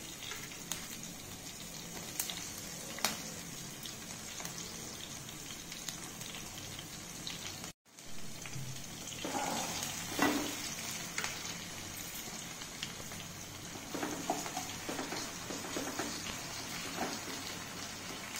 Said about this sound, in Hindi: आलू थोड़ा सा फ्राई हो जाए